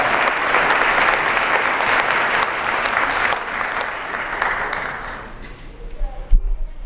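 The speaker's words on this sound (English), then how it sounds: "A round of applause for our chamber ensemble." An audience at a high school National Honor Society induction ceremony applauds a chamber ensemble, a dense, sustained round of clapping that thins and fades toward the end, followed by a brief thump.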